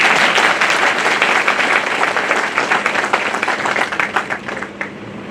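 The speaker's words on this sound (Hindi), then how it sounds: "तो अपने लिए बजाओ ताली।" An audience at a Bar Council of Delhi enrolment meeting breaks into loud, dense applause that continues for several seconds and then thins into scattered claps, with no speech over it.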